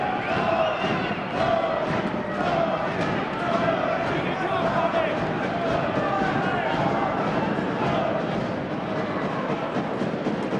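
Boxing crowd in an arena in Edmonton cheering steadily for a hometown fighter in a Commonwealth title bout, a dense, continuous roar with a commentator talking over it.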